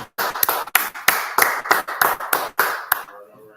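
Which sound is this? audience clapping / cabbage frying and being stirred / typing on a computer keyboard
audience clapping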